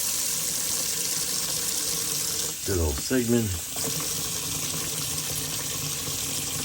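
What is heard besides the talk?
water running into a bathroom sink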